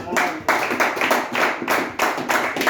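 A church congregation claps in rhythmic unison, loud repeated bursts of hand claps at a steady beat, close and lively, with faint voices underneath.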